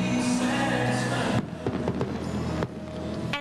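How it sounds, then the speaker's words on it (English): Fireworks burst over a ballpark during a baseball game: a dense roar of crackling gives way to several sharp, loud bangs in quick succession, with no talk. "The lights go down and then the fireworks start."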